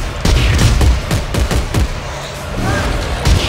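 Single-shot weapon in Dead Space 3 firing a series of loud, separate blasts in an uneven rhythm, each with a sharp attack and booming tail, followed by quieter game ambience and a final shot near the end.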